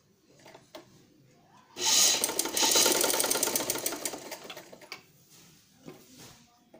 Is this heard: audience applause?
no